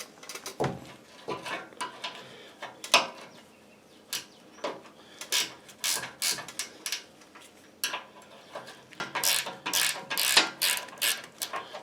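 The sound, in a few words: ratchet wrench turning 11 mm nut on loader cylinder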